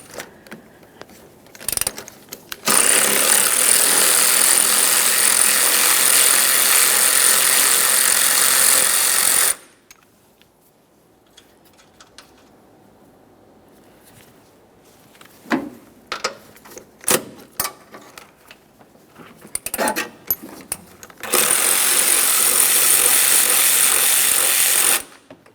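Two long bursts of a loud buzzing power tool, likely a ratchet or impact tool, work 14mm nuts on a 2011-2020 Toyota Sienna 3.5L V6. Clinks and small handling knocks fill the quieter gap between the bursts.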